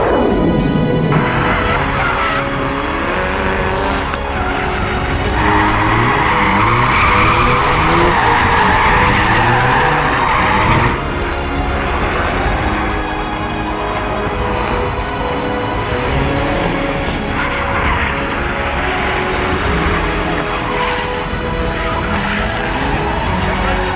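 Drift cars practicing for DriftMasters, with continuous loud tire squeal and skidding layered over revving engines, sustained and close for the whole stretch.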